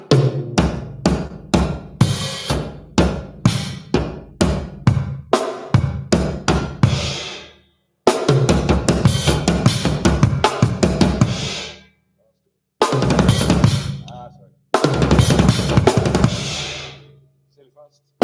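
Drum kit pattern with hand accents on a stack cymbal, trashy crashes and hits played evenly at first, then faster in dense bursts separated by short gaps, loud and close.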